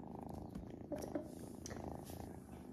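Several cats purring together up close, a steady low rumbling texture throughout with a couple of brief soft sounds on top.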